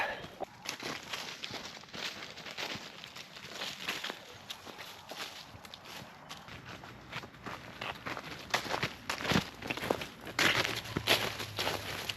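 Footsteps crunch along a hiking trail in a Kentucky state park on a scenic walk, soft irregular steps at close range, fairly faint against a light outdoor background.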